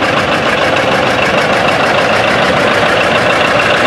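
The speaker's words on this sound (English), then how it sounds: "John Deere 1954 model 40." A 1954 John Deere model 40 tractor idles close by at a plow day, its engine a loud steady rhythmic chugging throb that runs unbroken throughout with no voices.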